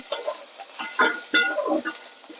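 Potato and carrot pieces sizzle steadily in a hot pan as a spatula stirs them, with close, repeated scraping strokes over continuous frying crackle and no talking.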